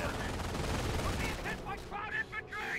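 Gunfire fills a battle in the video game Company of Heroes during a Normandy invasion mission. Dense, rapid shots and bursts rattle continuously, with scattered sharper cracks toward the end.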